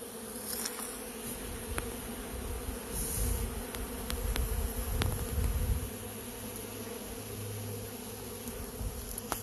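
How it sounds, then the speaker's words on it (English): Bees from a beehive in an apiary drone and whir steadily at close range, with individual insects zipping past the microphone over a continuous low hum; no talking. "So I keep seeing bees fly back and forth here"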